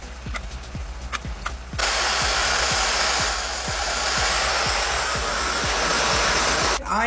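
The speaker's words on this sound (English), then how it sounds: "LED screen hair dryer." An ion hair dryer with an LED screen switches on partway through after some clicking, then blows with a loud, steady whooshing roar close by until it cuts off at the end.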